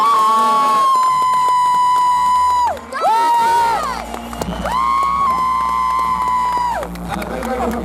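Crowd cheering and applauding for the winner at a natural bodybuilding contest, loud and sustained, with a strong tonal music or feedback-like sound running over it and a brief dip near the middle.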